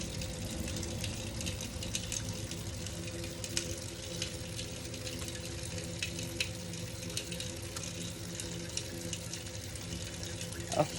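Tap water runs steadily into a sink during surgical handwashing while hands are rinsed, a continuous, even splashing hiss that lasts throughout with no talking.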